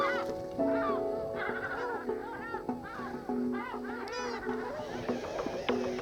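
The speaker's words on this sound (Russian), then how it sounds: "чайки ждут очередную порцию угощения" Seagulls call repeatedly over a frozen lake during ice fishing, their honking, squawking cries overlapping at moderate distance in the open air, with a faint murmur in the background.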